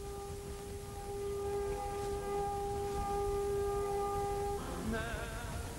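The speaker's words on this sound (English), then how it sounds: "In Israel, sirens sounded for 2 minutes, and the country literally stood still." Civil defense sirens wail on Holocaust Memorial Day in Israel, a steady sustained multi-tone blare held for several seconds before dropping into a wavering, falling tail near the end.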